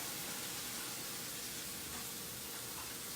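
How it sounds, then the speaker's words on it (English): A steady, soft sizzle of food frying in a pan, a constant hiss with no talking over it. "a little sizzle"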